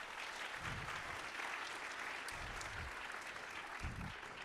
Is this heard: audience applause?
yes